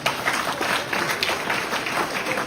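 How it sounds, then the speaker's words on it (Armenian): An audience at a public political speech applauds with dense, steady clapping that continues through the whole moment and has no clear break. "դե ծափ տվեք"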